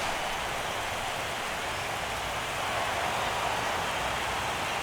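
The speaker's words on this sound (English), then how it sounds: "When it's raining out there" Steady rain hissing over a baseball stadium in MLB The Show 17 on PS4 during a World Series Game 7 between Miami and Cleveland, a constant even wash of noise with no talk.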